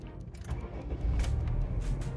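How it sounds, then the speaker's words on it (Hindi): A Honda Civic's engine starting up, with brief clicks and rattles first, then a low engine rumble that swells and settles into a steady idle. "मैं गाड़ी को स्टार्ट कर लूँ"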